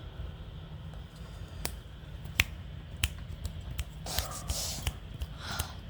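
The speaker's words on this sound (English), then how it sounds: "Yeah, I can finally snap my fingers." Finger snaps, several sharp isolated clicks spaced unevenly over quiet room noise, with a breathy gasp or exhale near the end.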